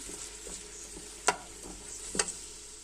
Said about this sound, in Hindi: ये मैंने प्याज जो है वो पतीली में डालकर इसके अंदर ऑयल डालकर चूल्हे के ऊपर रख दिया और इसमें बस मैं हल्का सा फ्राई करूँगी